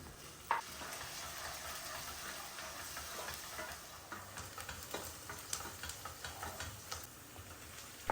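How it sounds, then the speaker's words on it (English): Cumin, ginger, garlic, green chilies and onions fry in hot oil, a low steady sizzle broken by soft ticking and scraping as they are stirred in the pan. "I'll cook them for a while and then add the chopped onions into it"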